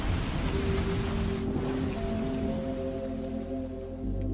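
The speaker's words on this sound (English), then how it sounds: "You don't want to have rain sound all over your video, just in the beginning" Steady rain, added as a sound effect for atmosphere, hisses continuously as a dense wash of droplets with a faint low tonal hum underneath and no voices.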